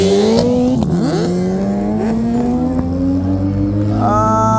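Drag-racing motorcycles, including a Suzuki and a BMW S1000R, roar off the line at a desert rally. Loud engines climb steadily in pitch with sharp revs and gear shifts, and a fresh high rev rises near the end.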